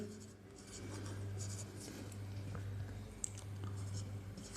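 Chalk or marker scratching on a classroom board during a maths lesson, a steady run of light strokes and taps with a low constant hum beneath, no talking.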